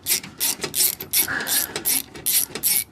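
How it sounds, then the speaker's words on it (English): A socket wrench on an extension loosens the headlamp bolts of a Rolls-Royce Silver Spirit III, making a close, rapid run of ratcheting clicks in short bursts. The bursts come one after another with brief pauses between them. "I'm going to use a socket and extension for this."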